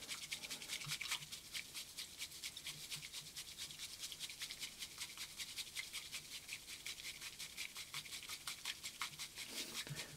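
Matcha tea is whisked by hand until frothy, giving a fast, even, brushy scratching that stays close and quiet and continues without a break for about ten seconds.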